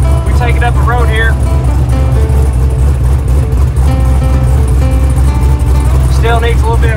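A Jeep CJ8 Scrambler engine drives up a road, a loud steady low drone with changing tones as it runs, with a person talking over it.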